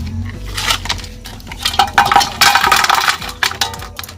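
Cleaned mutton legs are tipped into a metal pot, giving a run of loud clanks, knocks and scraping clinks against the pot for several seconds, with no talking.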